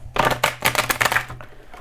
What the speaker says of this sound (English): So let me just give it a little shuffle through.